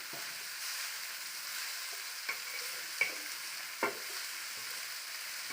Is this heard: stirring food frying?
yes